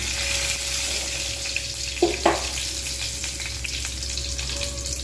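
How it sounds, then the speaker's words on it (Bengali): Whole cumin and fenugreek seeds fry in hot soybean oil in a kadai, giving a steady close sizzle with two brief clicks partway through and no talking. "কড়াতে দিয়ে দিয়েছি পরিমাণ মতো তেল এখানে গোটা জিরে আর মেথিটা আমি ফোড়ন দেবো"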